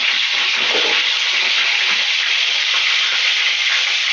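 A small amount of cumin seeds hits hot oil and fries with a loud, close, steady sizzle and fine crackling that keeps up without a break.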